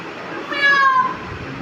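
A single cat meow rises and falls over about half a second, clear and fairly close, with faint background noise around it and no talk.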